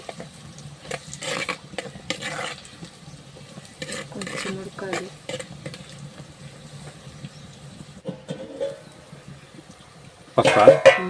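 Onions fry in a pan while Maggi noodles are being made, a steady sizzle mixed with stirring scrapes and utensil clatter against the pan, close and fairly loud.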